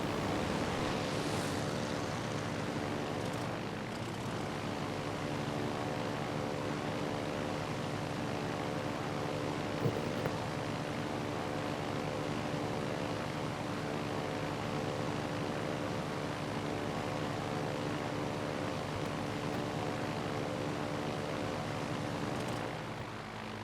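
Aircraft squadron engines in the World of Warships Legends naval battle game, a steady droning propeller hum that holds at an even level throughout, with no speech.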